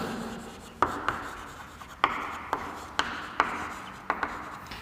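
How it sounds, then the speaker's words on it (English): A teacher writes notes by hand, with chalk or pen tapping and scratching in a regular series of about ten short, sharp strokes, close and without talk. "I'm just writing the short formulas and all."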